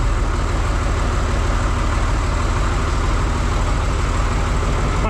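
A John Deere 2955 tractor engine idles while warming up in a shop, a steady, dense low rumble that holds an even level throughout with no speech.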